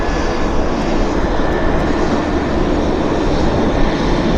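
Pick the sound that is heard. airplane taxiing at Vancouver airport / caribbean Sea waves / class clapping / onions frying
airplane taxiing at Vancouver airport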